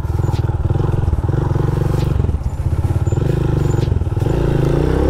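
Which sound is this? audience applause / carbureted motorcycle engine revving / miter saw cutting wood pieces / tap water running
carbureted motorcycle engine revving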